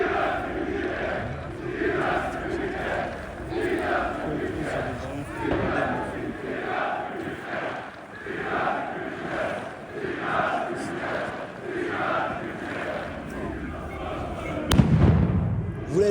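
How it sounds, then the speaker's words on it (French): Football supporters of a Belgrade derby crowd chant rhythmically and continuously, with agricultural firecrackers bursting in the background behind the singing and a sharp, loud bang near the end. "On entend déjà les chants, on entend également les explosions de bombes agricoles qui sont en train de partir derrière nous."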